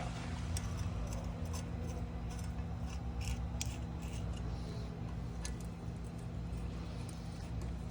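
Bolts being tightened by hand onto a Volvo IPS T3 series propeller, quiet scraping and ratcheting ticks repeating irregularly over a steady low background hum, with no talking.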